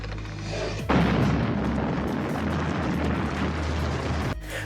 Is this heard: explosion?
yes